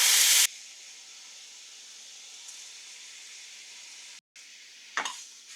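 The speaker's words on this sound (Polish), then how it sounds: "Dosłownie 2 minuty je tak podsmażam." A burst of loud sizzling opens, then a low steady hiss of orzo pasta frying in oil, with a short clink near the end.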